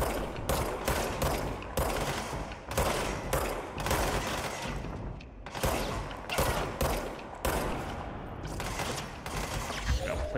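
Rapid gunfire from the video game Control, loud sustained bursts of shots firing back to back with only brief gaps, mechanical clatter running through the whole stretch.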